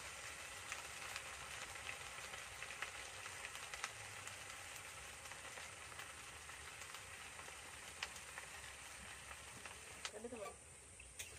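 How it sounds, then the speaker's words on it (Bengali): Potato pieces frying in hot oil for a breakfast snack, giving a steady, fairly quiet sizzle that runs throughout with a few small crackles, while someone talks over it. "দেখুন এখানে আমি এগুলো ভাজছি, এগুলো একটু একটু লাল হয়ে গেছে।"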